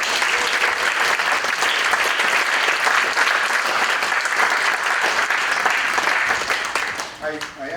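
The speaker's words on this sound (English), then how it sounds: "Tom, give everybody a round of applause" A dense round of applause from a chamber concert audience in a church in Norfolk greets a guest reader, loud and sustained before tapering off at the end as a voice begins.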